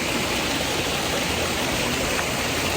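A river in Idaho flows beside natural hot springs, its water rushing in a loud, dense, continuous wash heard close by, with no voices.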